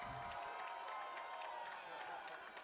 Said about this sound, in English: Cameraman making the stop, getting a round of applause.